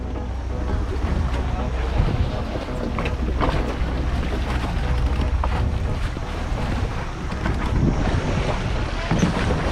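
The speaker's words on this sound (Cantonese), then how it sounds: "唉，又上返船啦！" A boat travels across open sea off the Ninepin Islands in Sai Kung, Hong Kong, giving a loud, steady rush of water and engine rumble mixed with wind buffeting the microphone throughout.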